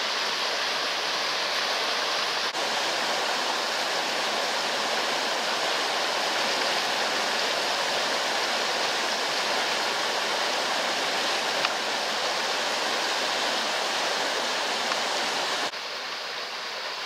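A river flowing beside a countryside walking path in Alresford, Hampshire, gives a steady, full rushing wash of water that stays loud and constant throughout, with no talk.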